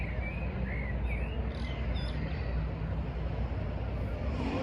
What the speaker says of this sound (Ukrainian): Пташки так гарно співають.